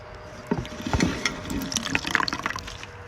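A contraceptive sponge is dunked and worked in soapy water, giving close, irregular splashes and wet squelches with a brief sharper slosh near the start, with no talking.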